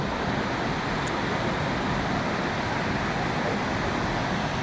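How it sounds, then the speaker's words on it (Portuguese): Small waterfall cascade beside an old mill building turned water museum in Gdansk, Poland: a steady, dense rush of falling water holds at an even level, close by and continuous, with no voices. "E tem essa bela mini cascata aqui do lado."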